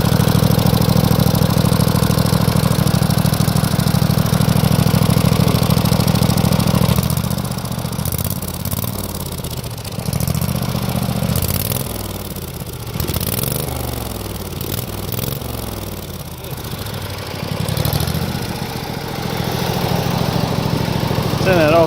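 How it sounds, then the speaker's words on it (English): Small lawn mower engine fitted with a custom exhaust runs steadily near the microphone, a loud continuous drone that shifts slightly in pitch as it idles on with electrics switched off; someone talks over it at times. "Now with everything turned off, the engine's still running."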